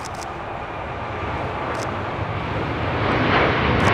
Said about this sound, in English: This is Qatar Airways 740 taking off